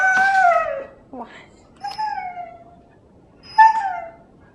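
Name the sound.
pet puppy dog howling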